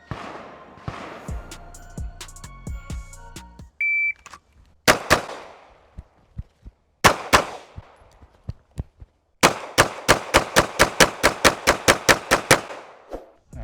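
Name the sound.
Glock pistol shots fired at range targets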